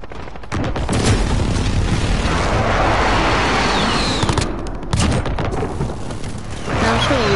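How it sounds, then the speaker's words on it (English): Precision airstrike explosions in the video game Call of Duty: Modern Warfare form a loud, continuous barrage of booms and blasts. The rumble sustains for several seconds with a short dip midway. "Enemy precision airstrike inbound."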